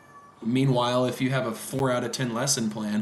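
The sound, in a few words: cat meowing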